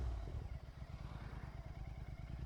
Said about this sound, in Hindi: ये आवाज़ सुन रहे हो जो आ रही है इंजन से